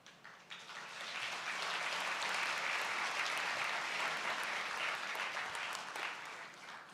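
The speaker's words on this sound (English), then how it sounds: "They will only applaud when you announce the billions, not otherwise." Sustained applause from an audience at a government launch event for a national energy transition roadmap, swelling quickly and holding steady for several seconds, heard fairly faintly.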